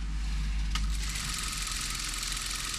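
Sewing machine stitching a salwar garment's fabric, a steady close mechanical whir and hum with fine rapid needle rhythm, plus one short click near the start.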